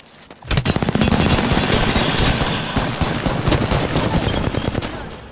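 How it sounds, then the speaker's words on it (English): Sustained, loud gunfire in Apex Legends erupts after a short quiet start, with rapid repeated shots and overlapping bursts rattling on continuously to the end. "There's somebody shooting at us from the back"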